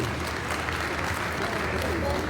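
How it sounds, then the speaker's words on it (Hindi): At an honouring ceremony of the Haryana Red Cross Society, an assembled crowd gives loud, steady applause for four blood bank teams, the clapping a continuous roar filling the whole moment. "चारों ब्लड बैंकों के लिए जोरदार तालियों से इनका सम्मान करें"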